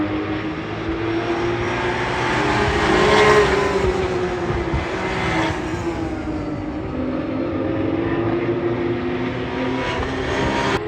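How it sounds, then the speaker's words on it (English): Porsche race cars circling the Barcelona circuit during an ELMS 4 Hours endurance race, a steady loud engine roar with a swelling pass-by, heard from trackside with no talk. "just watch some Porsche cars fly about"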